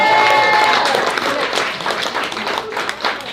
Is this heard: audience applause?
yes